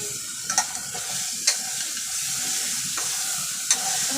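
Rice added to a frying pan for masale bhaat, stirred with a steady sizzle and a few sharp clinks of the spoon against the pan, close up.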